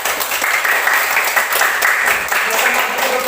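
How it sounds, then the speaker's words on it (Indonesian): A classroom group of students applauds a student group after its presentation, giving dense, steady clapping throughout at close range, with voices mixed in underneath. "Dan tepuk tangan untuk kelompok 1."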